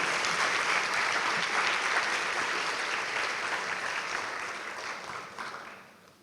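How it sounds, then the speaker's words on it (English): Applause rises from an audience for presenters at a graduation ceremony, a dense sustained clapping that holds steady and then gradually fades toward the end. "So let's give them a round of applause"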